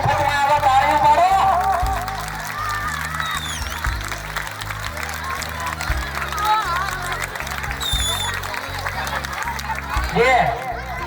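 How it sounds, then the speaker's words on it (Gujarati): An audience at a girls' high school annual function in Bagodara claps in a steady wash of applause under music and a talking voice, with the clapping swelling near the start and again toward the end. "તાળીઓ પાડો."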